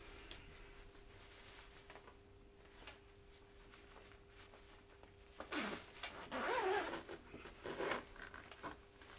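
A zipper on a Furygan motorcycle jacket is pulled in a few quick rasping strokes after quiet handling, the zip runs loud and close near the end.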